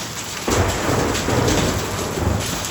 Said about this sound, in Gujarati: આટલા બધા કરા પડ્યા